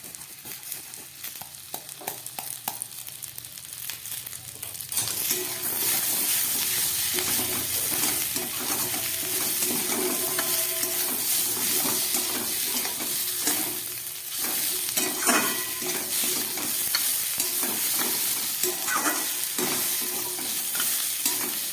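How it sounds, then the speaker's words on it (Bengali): Spice masala with grated ginger sautéed in a pan, a steady loud sizzle with continuous stirring and scraping that grows fuller after the first few seconds, with no talking. "খুব ভালো করে কষিয়ে নিলাম, এর থেকে আর বেশি মশলা দেব না।"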